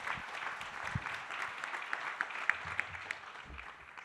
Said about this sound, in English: they deserve a very warm round of applause for sharing their challenges with us